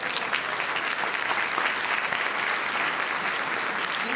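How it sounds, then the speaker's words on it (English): Sustained audience applause at a 2017 congressional swearing-in ceremony for a US Representative, a steady dense wash of clapping filling the room for the full stretch without pause. "That deserves a round of applause."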